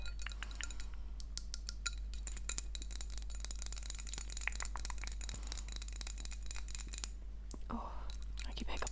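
A small tea measuring spoon clinks as it is set down among tea tins, giving a run of light, close metallic taps and chinks over a quiet background, soft and intimate.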